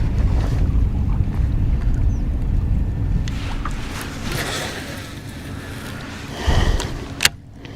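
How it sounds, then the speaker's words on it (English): Wind rushes across Chickamauga Lake and the microphone as a bass boat drifts, a steady low roar with faint water lapping and a couple of brief knocks against the hull near the end. "this wind's blowing me the direction I'm going, so I just kind of let it drift"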